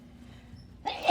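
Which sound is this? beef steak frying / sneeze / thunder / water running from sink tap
sneeze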